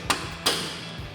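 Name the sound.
soft hammer tapping bolt into bracket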